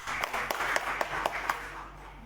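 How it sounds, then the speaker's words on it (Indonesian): Scattered clapping from a gathering at a student organisation inauguration ceremony, a handful of distinct claps over a steady hum, fairly faint and sparse rather than full applause. "Tepuk tangan dulu dong."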